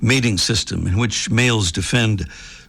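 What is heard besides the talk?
No everyday noise stands out behind the speech.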